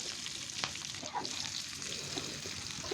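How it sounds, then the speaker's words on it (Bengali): Cabbage, potatoes and shrimp with green chilies frying in a pan, a dense, close, continuous sizzle with occasional scraping and stirring clatter. "এখন বাঁধাকপি আর আলুটা দিয়ে দিলাম, দিয়ে ভালো করে নাড়াচাড়া করতে হবে।"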